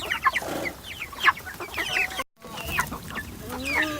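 Young chickens clucking in a steady flurry of short calls, fairly close, with overlapping hen chatter and a brief gap of silence midway.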